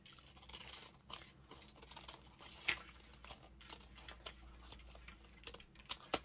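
Scissors cutting around a paper envelope pocket in a craft project: faint, close, irregular snips and soft crinkles, steady ticking cuts with brief louder clicks and no talk.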